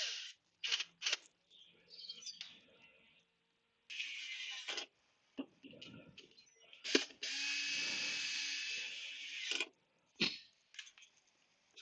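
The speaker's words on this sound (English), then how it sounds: "I'm always very careful putting screws back in with an electric screwdriver" An electric screwdriver drives screws into an aluminium housing on a WallBox Quasar charger, with several short whirring bursts and one longer run, close and clear, separated by quiet gaps and small handling clicks.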